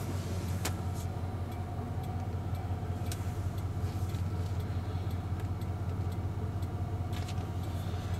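A 1994 Ford Bronco idles steadily with a low, even engine rumble, with a few faint ticks scattered over the drone.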